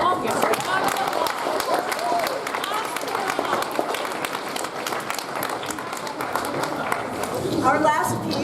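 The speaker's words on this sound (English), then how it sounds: "give yourselves a humongous round of applause" Schoolchildren giving themselves a big round of applause after a choral performance, lively uneven clapping mixed with chatter and young voices, with a brief cheer rising near the end.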